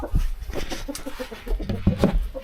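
Several hens cluck close by in short, overlapping bursts, a busy irregular chatter with no talking.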